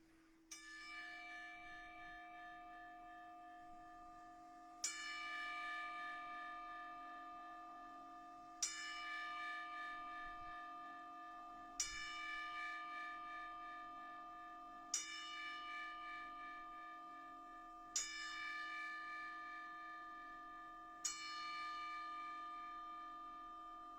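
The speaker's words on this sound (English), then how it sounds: "I would like to do a 10-bell salute" A single bell tolls seven times in a slow, regular salute, each ringing strike decaying into a long sustained hum before the next, alone with no talk.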